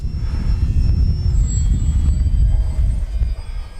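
An FMS Super EZ RC airplane is flying at an RC field, its steady electric motor drone filling the clip with a continuous, fairly loud whine and broadband rumble and a slight pitch shift as it passes.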